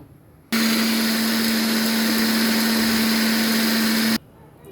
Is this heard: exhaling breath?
no